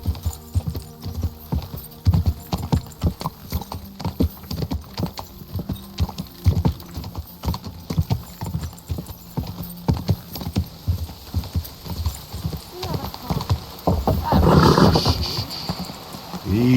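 A horse in Kingdom Come Deliverance II gallops with steady, loud clip-clop hoofbeats, ending with a brief whinny and a short spoken command to the horse.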